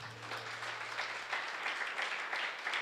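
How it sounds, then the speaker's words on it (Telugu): A church congregation at an evening fasting prayer service claps hands together in steady, dense applause that holds for the whole stretch without a break. "చప్పట్లు కొడదాం."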